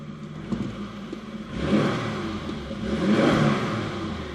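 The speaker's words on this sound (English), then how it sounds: "Give it a little quick rev." A 1989 Toyota Supra Turbo with very low original mileage revs its engine in two quick surges, the second rising a little higher, heard close by with no talk.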